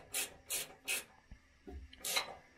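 Ratcheting wrench turning bolts on a Tyger bull bumper on a Toyota 4Runner, a series of short rasping clicks in an uneven rhythm, close and fairly quiet, with faint knocks between.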